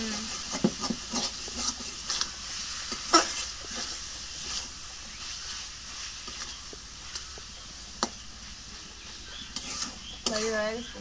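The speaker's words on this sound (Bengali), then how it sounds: "বাজিটা একটু নাড়িয়ে দিই।" Vegetable bhaji being stirred in a frying pan in a home kitchen, soft scraping and gentle sizzle running steadily underneath, with occasional louder knocks of the spoon against the pan.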